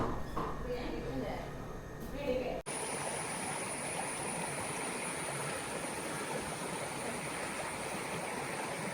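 A small stream flows in a continuous, even rushing wash that fills most of the stretch after a brief opening of other sound, close and steady.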